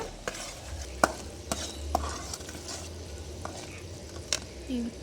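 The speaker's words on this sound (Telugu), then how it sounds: "తర్వాత చిన్నగా నువ్వులు వేస్తూ కలుపుకోవాలండి ఉండలు కట్టకుండా కలుపుకోవాలి" Sesame seeds stirred into hot jaggery syrup in a pan with cardamom, a steady close scraping and stirring over a soft sizzle, with sharp spoon knocks against the pan at irregular moments.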